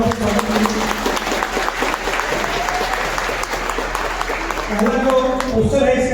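A large audience at a district administration event applauds loudly and steadily to welcome a calendar release, continuous close clapping filling the room.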